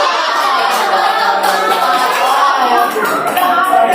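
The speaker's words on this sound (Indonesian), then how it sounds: "tepuk tangan" A class of students clapping in a classroom, a continuous, even wash of many hands applauding together at steady volume for the whole stretch, with no clear talk over it.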